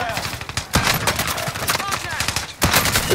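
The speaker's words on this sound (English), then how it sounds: "He's shooting me from above?" Rapid bursts of enemy gunfire from above in a video game crackle in quick repeated volleys, loud and close, with a sharp break near the end.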